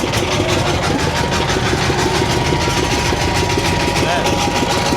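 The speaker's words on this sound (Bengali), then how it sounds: "এই যে দেখেন নৌকা কিন্তু চালু হয়ে গেল।" A boat engine runs at a steady, loud, rumbling chug with a constant vibrating drone and faint knocking, heard close up with no break.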